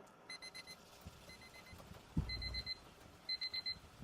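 A ringing alarm clock sounds in a quiet room at the opening of a student film, giving short bursts of high beeping in quick repeated groups with a soft thump between them.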